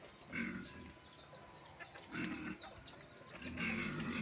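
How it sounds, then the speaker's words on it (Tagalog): Pet pigs at feeding time grunt and squeal in short bursts, some close and some further off, with chickens clucking faintly in the background of a quiet farmyard. "Papakain na naman tayo sa Alaga akong baboy"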